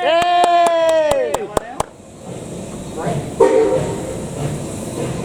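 The Steamranger RX207 heritage train sounds a loud harmonic whistle in a quick series of bursts, then rumbles and clanks past nearby, with voices faintly in the mix.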